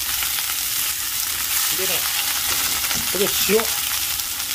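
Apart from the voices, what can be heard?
bean sprouts added to hot oil, sizzling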